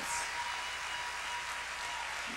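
A conference audience applauds in a steady, dense wash of clapping across a large hall, with no voices over it.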